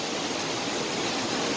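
Waterfall in the Peak District, a steady broadband rush of falling water that stays loud and unbroken throughout, with no voices over it.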